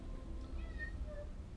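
At a veterinary clinic, a cat lets out faint, thin meows over a low background hum, soft and slightly distant.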